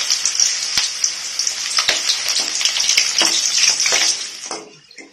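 Chicken curry fries loudly in a pan, a dense crackling sizzle broken by sharp utensil clicks and scrapes before it fades away near the end.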